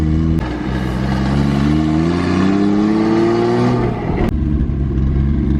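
A Toyota Supra Turbo engine revs up loud and close, the pitch climbing steadily over several seconds, then drops back to a rough idle. There are sharp clicks at the start and the end.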